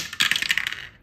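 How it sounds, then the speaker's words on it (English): Dice clatter down through a small witch's-heart dice tower, a bright rapid cascade of hard clicks and rattles lasting under a second, close and clear before fading to silence. "it's gonna roll dice for me."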